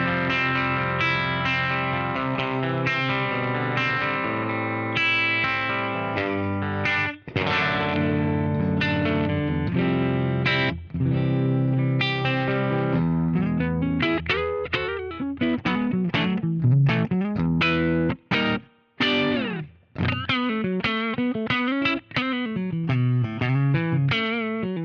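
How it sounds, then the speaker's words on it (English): Electric guitar played through an Origin Brown Deluxe 1x12 cabinet impulse response, a full, sustained tone with chords and single-note lines, slightly driven with modulation and a little echo, loud and continuous. "Now I'm going to switch to Origin's Brown Deluxe 1x12 IR, and you'll hear the difference."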